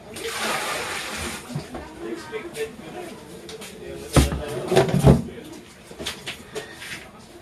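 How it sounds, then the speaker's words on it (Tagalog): Floodwater splashes and sloshes around someone wading through a flooded area during a typhoon, with irregular bursts of splashing that grow louder midway and people talking over them. "Yan yung baha, oh."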